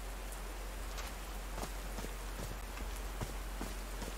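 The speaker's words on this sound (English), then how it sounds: "These drops of rain are so refreshing." Rain falls in the video game Call of the Sea, a steady soft patter of drops with scattered sharper ticks, continuous and fairly faint, with no talking.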